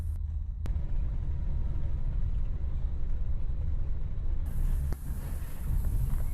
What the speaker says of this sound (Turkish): Hayatımda ilk defa iki katlı bir otobüse bindim.